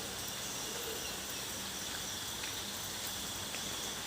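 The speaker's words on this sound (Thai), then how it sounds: "ฝนยังตกอยู่ตกตั้งแต่เมื่อคืน ถึงเช้าก็ยังไม่หยุดตก" Steady rain falling outdoors in the morning after raining all night, a constant even hiss of light drizzle with faint insect chirps in the background.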